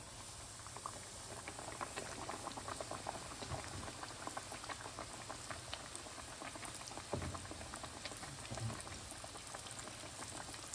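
Floured pork chops frying in hot oil, a dense steady crackle and spatter like light rain, continuous and even, with a brief soft knock partway through.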